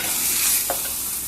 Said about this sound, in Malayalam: അപ്പോൾ കഞ്ഞിയിലേക്ക് ഒഴിച്ചിട്ട് നമുക്കത് ചൂടെടുക്കണമെന്ന്